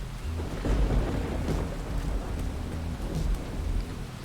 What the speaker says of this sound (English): let's just poozle and see if any more lightning bolts do strike anywhere